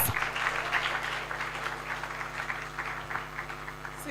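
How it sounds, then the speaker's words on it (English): An audience claps steadily in a room, a dense patter of applause at moderate volume that fades slightly toward the end. "Please, a round of applause."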